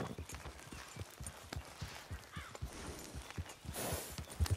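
Steady clip-clop of horse hooves at a walking pace in Red Dead Redemption 2, close and rhythmic, with faint ambient background and a brief snort.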